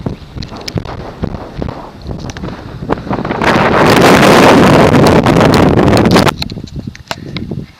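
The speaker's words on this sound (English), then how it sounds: "I'm not getting any closer to the edge in this wind." Strong wind buffets the microphone at a cliff edge in El Yunque rainforest, gusting loudly into a sustained roaring blast for a few seconds before easing back to rougher, patchier gusts.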